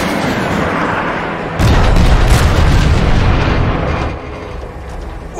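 Bruticus's main guns fire in the Transformers: Fall of Cybertron game, a sudden loud, heavy barrage of booming blasts with a deep, sustained rumble that runs for several seconds before easing off.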